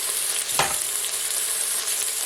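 Pieces of pork sizzle steadily in a hot pan for a cider pork sauté. The hiss is loud, continuous and close, with one brief stirring scrape near the start and no voices.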